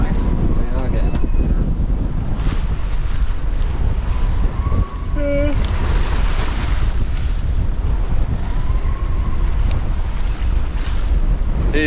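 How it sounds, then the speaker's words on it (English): Ocean waves rush around a sailing boat far out at sea on a windy night, with wind gusting at about 30 knots from behind, loud constant water and wind noise buffeting the microphone, and brief voices and tonal creaks. "Some of the waves are getting up outside."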